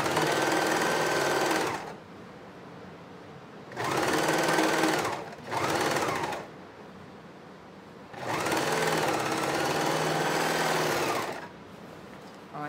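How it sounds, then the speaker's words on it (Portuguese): An overlock sewing machine finishes the edges of a patchwork curtain. Loud, close whirring comes in four bursts of one to three seconds, separated by quieter pauses with low background hum. "eu vou passar aqui a overlock nas quatro pontas até fazer o acabamento de toda a minha peça"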